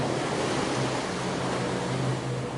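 Gentle ocean waves wash steadily onto a calm shore, a soft continuous surf hiss with a low rolling undertone, close and even throughout with no voices.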